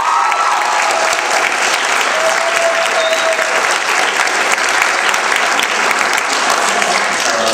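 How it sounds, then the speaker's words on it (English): Sustained applause from a large crowd, loud and continuous, a dense wash of clapping that holds steady throughout. "A round of applause for this girl."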